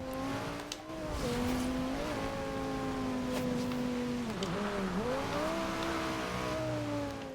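A maxed-out Lamborghini Superleggera with all-wheel drive drifts through a curve in the racing game Forza Horizon 2, its engine holding a steady loud drone with pitch dips as the rear slides, plus a light tire squeal.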